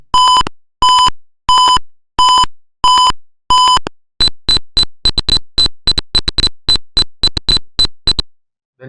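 A simulated Arduino piezo buzzer in a Tinkercad temperature-warning circuit sounds loud, clean electronic beeps: six slower evenly spaced tones, then a faster stream of shorter, higher beeps in quick succession, with no voices.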